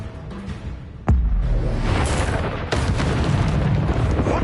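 In the Hogwarts Legacy video game, the Expelliarmus spell fires with a sudden loud boom, and a dense roaring blast follows and holds, with a second burst a little later.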